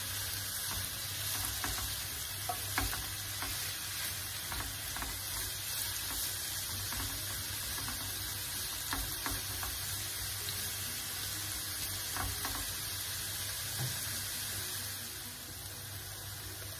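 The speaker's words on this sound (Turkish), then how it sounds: "Havuçlar karıştırarak sotelenmeye devam ediyor." Carrots sautéing uncovered in a pan and stirred now and then: a continuous soft sizzle with occasional scraping strokes, plus a faint steady hum underneath.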